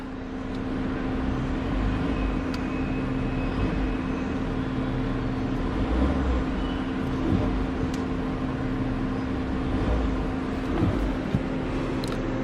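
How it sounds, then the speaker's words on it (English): A 2018 Audi A4 engine running with a steady drone and a faint rise, heard from inside the cabin with no talk. "Not a bad sounding engine."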